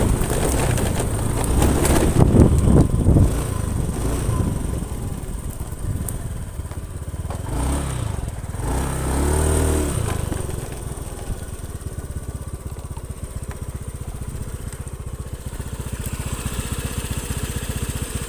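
A serviced Honda Beat FI scooter engine runs smoothly close by, with a louder rev early on and then a steady idle hum, with faint bird calls in the background.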